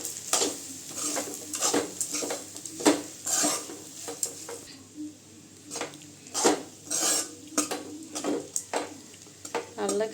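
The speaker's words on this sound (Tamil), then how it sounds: "சேர்த்து நல்லா கிளறி விட்டுக்கலாம்." A spoon stirs curry leaves rice with ground spice powder in a pan, making repeated scraping and clinking strokes in an uneven rhythm, close and fairly clear.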